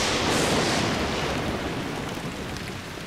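Rain falling in the video game Lucius, a steady broadband hiss that holds evenly throughout and eases slightly toward the end, with no voices over it.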